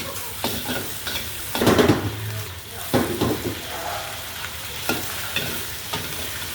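Mixed fried rice is stirred and tossed in a hot pan, with scraping strokes and steady crackling, popping sizzle, close and moderately loud, with occasional louder bursts as the rice is turned.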